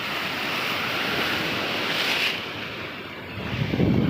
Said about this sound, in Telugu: అరే వాటర్ చూడరా ఎంత సౌండ్ చేస్తున్నావు ఇక్కడ